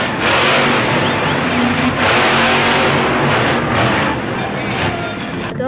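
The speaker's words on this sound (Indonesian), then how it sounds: "lalu juga ada truk monster sama teman-teman tuh lihat" Monster truck engine roaring and revving loudly up close, with sharp popping bursts and thuds running through a sustained, rough engine noise.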